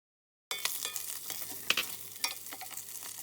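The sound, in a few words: spring onion, ginger, dry chili and star anise frying in pan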